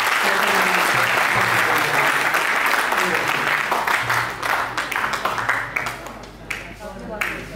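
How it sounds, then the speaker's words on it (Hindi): A large audience at an award ceremony applauds loudly and steadily, the clapping thinning out and fading toward the end. "जोरदार तालियों से"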